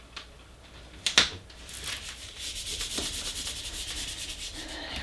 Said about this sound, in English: Burnish, burnish, burnish, burnish.